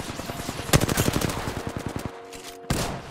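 Rapid automatic gunfire in Apex Legends, a fast rattling burst of shots lasting about a second and a half, then a short gap and another sharp shot.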